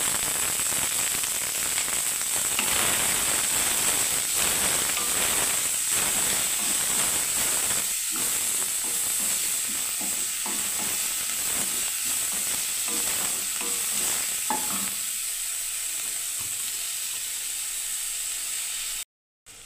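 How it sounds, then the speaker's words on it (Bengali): Onion, dried red chilli and cumin frying in a pan, a continuous close sizzle with occasional stirring scrapes and crackles, easing slightly near the end before cutting off. "দেখুন বন্ধুরা আমার হয়ে গেল পেঁয়াজ আর শুকনো লঙ্কা জিরে দিয়ে ভাজাটা"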